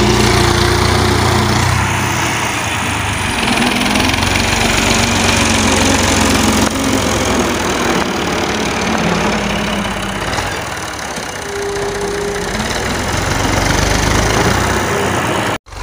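A 1984 Massey Ferguson 240 tractor engine chugs steadily nearby for a long stretch, a low rumbling drone with slight shifts in pitch, then cuts off abruptly.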